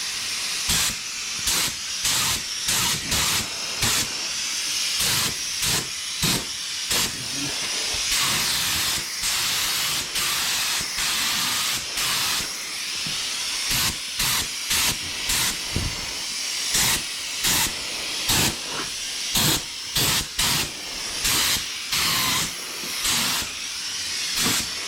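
Spray gun laying a light mist coat of epoxy primer on a vintage Oldsmobile body, a steady loud hiss broken by many short pauses as the trigger is repeatedly pulled and released, close and with no talk.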